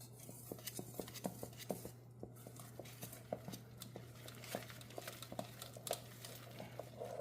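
Milk is mixed into German pancake batter, making a soft, steady patter of stirring strokes at a regular rhythm, close but quiet over a low background hum.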